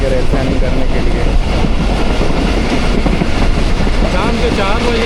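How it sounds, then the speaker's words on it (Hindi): A train rolls through Kharian on a sharp curve, a loud continuous rumble of wagons with steady clatter and squealing wheel tones near the end, close by for the whole stretch. "खारियाँ से थ्रू पास हो रही है ट्रेन।"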